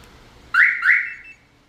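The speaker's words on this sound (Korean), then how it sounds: "스마트폰 경보기 함께 사용할 수 있는 매직카 양방향 리모컨 골드 8입니다." A Magic Car Gold 8 two-way remote smartphone car alarm sounds a loud, close double chirp, two quick electronic tones with a short tail, alone with no talking.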